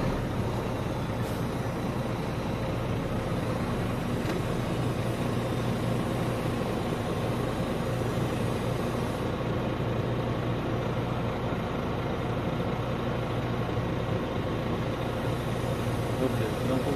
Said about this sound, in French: je vais démarrer le véhicule